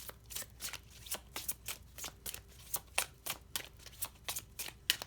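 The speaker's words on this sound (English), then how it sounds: "I'm going to keep shuffling." A deck of tarot cards is shuffled by hand in a quiet room, giving a steady run of soft, rapid riffling bursts that repeat about every half second, close and fairly faint, with no talk.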